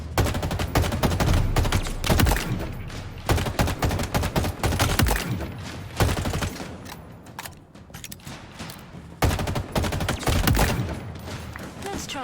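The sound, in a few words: gunfire with live rounds in video game Halo Infinite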